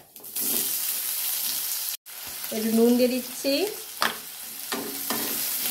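Steady frying sizzle of onions and cumin seeds in a pan, with occasional stirring scrapes, while a person speaks briefly over it.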